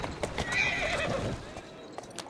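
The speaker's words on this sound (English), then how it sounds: "Who's a good horse?" A horse in the Assassin's Creed Syndicate video game whinnies briefly while hooves clop at a steady, close pace, with faint ambient noise around them.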